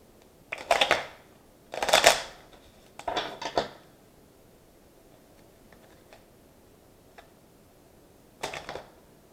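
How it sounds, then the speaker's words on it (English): Tarot cards are shuffled and pulled in quiet bursts: three close papery riffles in the first few seconds, a few faint ticks, and one more short shuffle near the end, with no talking. "So let me pull some more cards."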